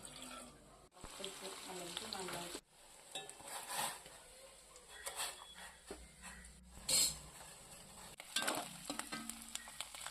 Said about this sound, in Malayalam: ചീനച്ചട്ടിയിൽ കുറച്ച് എണ്ണ ഒഴിച്ച് മീൻ വറുത്തെടുക്കുക.